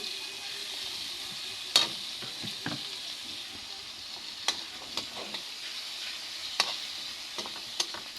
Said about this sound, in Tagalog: Sinahalo pa para yung nilagay natin tomato sauce.